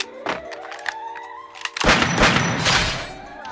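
A shotgun blast hits hard in the battle-royale game Garena Free Fire Max, a loud booming shot after quieter tonal game sounds, followed by a sustained rumbling tail.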